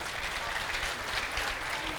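Audience applause filling the space as a continuous wash of many hands clapping, moderately loud and steady throughout.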